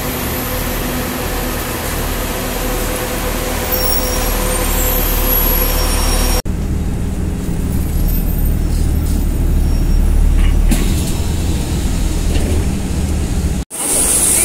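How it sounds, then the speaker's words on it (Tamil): Airport shuttle bus carrying passengers out to an aircraft, its engine droning loud and steady from inside the cabin, with a brief cut midway and a short dropout near the end; no one speaks. "ஃப்ரெண்ட்ஸ், இந்த மாதிரி பஸ்ஸில் தான் போகணும் ஏர்க்ராஃப்ட்டுக்கு."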